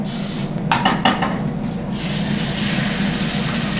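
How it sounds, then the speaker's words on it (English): A few brief hissing spritzes from an olive oil spray can onto a pan near the start, then a steady low hum of background noise. "Olive oil spray."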